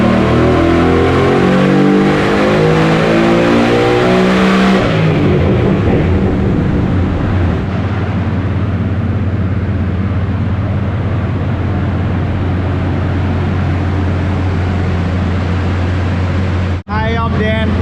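A tuned car engine revs hard on a quick run up to 6000 rpm, a loud climbing roar that steadies into a sustained high drone before cutting off abruptly near the end.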